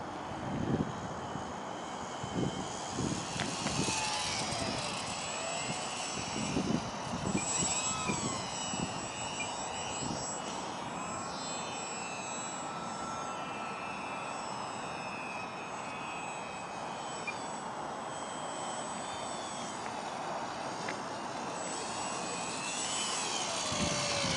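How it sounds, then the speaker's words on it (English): Small bush plane engine droning steadily in flight, a continuous moderate hum with a high whine layered on top, sustained throughout with no talk. "It's a bush plane"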